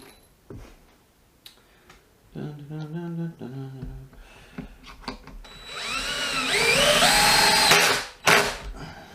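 A power driver with its torque setting raised drives a woodscrew: scattered clicks and brief tonal buzzes come first, then a close, rising motor whine swells for about two seconds and cuts off, followed by a short final burst.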